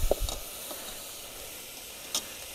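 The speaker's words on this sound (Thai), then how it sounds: "รอหมูสุกแป๊บหนึ่งนะครับ" Pork cooking in a pan at a mountain tent campsite near Chiang Mai gives a soft, steady sizzle with a few faint clicks, quiet and close, with no talking.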